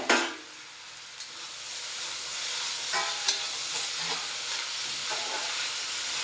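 Onions, ginger and green chilies fry for a beef curry, a continuous close sizzle and hiss in the pan with occasional stirring clicks and scrapes.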